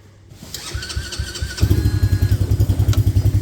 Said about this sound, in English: Got some gas in it. First start, see what it'll do. Key on, choke.